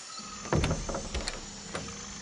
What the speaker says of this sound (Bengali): প্রায় 10 মিনিট পর দরজা খুলে গেল।